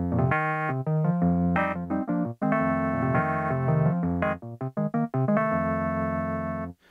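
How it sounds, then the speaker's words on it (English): A Casio CT-X3000 keyboard's 60s electric piano voice plays chords and a melody, bright bell-like tones with sustained notes and short pauses, no voices. "We can go back a decade further with the 60s electric piano as well."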